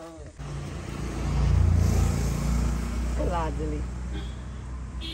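A car engine runs with a steady low drone that swells as it revs, heard from inside the vehicle on a Konkan road trip, with voices talking over it.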